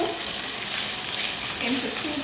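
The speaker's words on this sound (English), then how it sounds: "Meat, you hear that sizzle?" Meat sizzles and crackles in a hot pot while being stir fried for dinner, a loud, steady frying hiss with faint stirring underneath.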